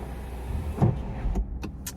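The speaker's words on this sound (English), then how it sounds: "so I close the window" A car's power window whirs shut with a low motor hum, ending in a soft thud as it seals, followed by faint clicks.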